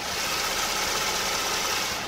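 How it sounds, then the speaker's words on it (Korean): Engine of a Hyundai Genesis BH sedan with eight-speed automatic idling with the hood open, a steady even hum heard close up with no talking. "영상에서 들리시는 것과 같이 굉장히 정숙하고 규칙적인 엔진 사운드 들려주고 있고요"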